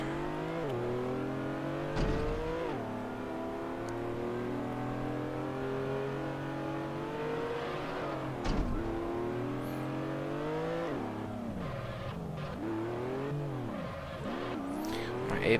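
A race car engine in the Race of Champions video game revs continuously, rising and falling through gear changes with brief tire squeals, played back as system audio with no talk over it.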